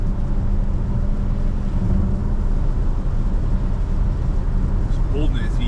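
Range Rover L405 twin-turbo engine held at 3000 RPM in fifth gear in sport mode: a steady, loud, droning engine rumble with road noise throughout, and a faint chirp near the end.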